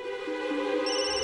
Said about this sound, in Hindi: रिंग सुनाई दे रही है।